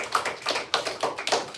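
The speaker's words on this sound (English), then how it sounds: "Clap it up for her." A classroom of students applauds briefly in a short burst of quick, uneven claps from several pairs of hands, fairly close.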